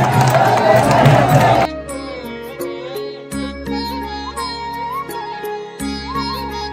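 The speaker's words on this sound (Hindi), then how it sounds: "ये जो आप भीड़ देख रहे हो" A dense crowd in front of the Prem Mandir temple in Vrindavan fills the first two seconds with a loud, broadband roar of voices, which then gives way to melodic music.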